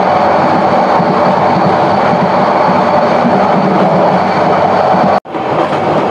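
The Subarna Express passenger train runs at about 60 km/h on the Chattogram to Dhaka line, heard from inside as a loud, steady rumble and rush of wheels and air that cuts out abruptly near the end and then resumes.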